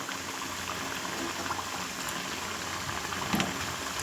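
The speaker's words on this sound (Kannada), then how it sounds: "ನೋಡಿ ನಾವು ಎಣ್ಣೆಯಲ್ಲಿ ಹಾಕಿದ್ದೀವಿ, ಅದು ಎಣ್ಣೆಯಲ್ಲಿ ಕರೀತಾ ಇದೆ." Evening snacks deep-fry in hot oil with a steady, soft bubbling hiss that stays even throughout, close but fairly quiet, and no one talks over it.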